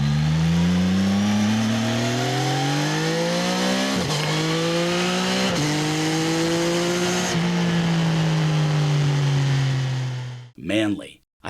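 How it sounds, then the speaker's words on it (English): A CF Moto 675ss sport bike's exhaust revs up and down in several loud, throaty sweeps for about ten seconds, heard close and alone, before cutting off. "it has a menacing, unique exhaust note that's both throaty and refined, a beautiful blend of a V-twins grunt and a 4-cylinders wail"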